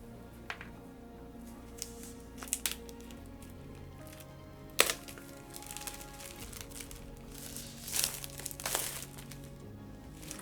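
Plastic shrink wrap on a Tidal Blades: Heroes of the Reef board game box crinkles and crackles as a seam is cut, quiet rustling broken by sharp snaps and bursts of crumpling.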